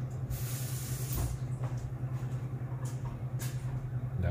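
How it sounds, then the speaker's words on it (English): A kitchen tap runs water to rinse off a fork, a steady hissing spray heard from a distance with a low hum beneath and a few brief clatters. "Let me go rinse it off now."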